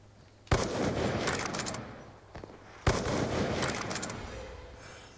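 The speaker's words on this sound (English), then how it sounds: "Okay, let's try this sniper." Two booming sniper rifle shots fire in Call of Duty: Black Ops II, spaced about two seconds apart, each sharp and loud with a long, echoing reverb tail and faint clatter between them.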